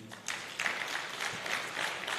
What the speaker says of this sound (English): Join me in welcome with a rousing round of applause